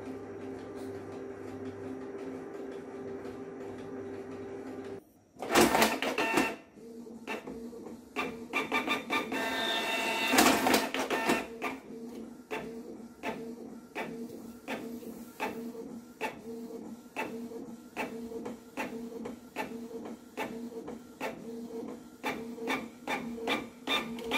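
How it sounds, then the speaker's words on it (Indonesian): A printer whirs and clicks through a page, starting with a short mechanical burst, then a steady train of rhythmic feed and head clicks. "Saya akan hidupkan printer saya dulu ya"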